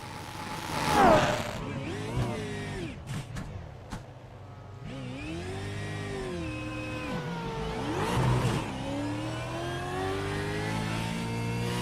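A V8 race car engine revs and accelerates during a practice session, its pitch sweeping up and down through gear changes, loud and close, with brief sharp bursts mid-run.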